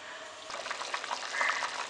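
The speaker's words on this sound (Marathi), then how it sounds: "खूप छान अशी उकळी आलेली आहे" A pot of Maharashtrian misal curry simmers at a rolling boil, giving a soft, continuous bubbling and popping that swells a little toward the end, close and quiet.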